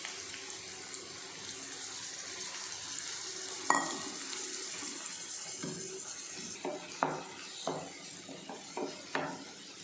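A ground ginger, garlic and shallot paste sautéing in a pan gives a soft, steady sizzle, broken by several moderate spatula knocks and scrapes in the second half.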